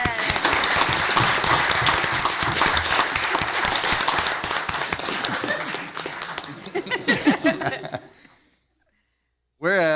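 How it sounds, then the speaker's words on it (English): Applause from the audience at a town council meeting, loud and dense, thinning into scattered claps and tapering away, then briefly resuming at the very end. "I think that deserves a round of applause."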